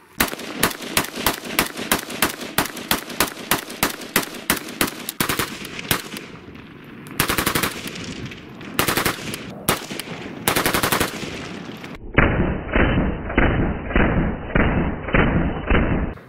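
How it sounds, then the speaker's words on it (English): Sharp, loud gunshots fired from a rifle loaded with a Korean magazine and Wolf ammunition ring out in rapid, evenly spaced bursts. A few brief pauses and thuds break up the close volley. "Five shots out of a Korean mag."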